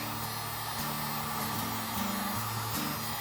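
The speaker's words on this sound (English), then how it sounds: "Get out your little blower. Shrink up that heat shrink." Small heat blower shrinking heat shrink tubing, a steady faint whirring hum with shifting motor tones, close and continuous with no talk.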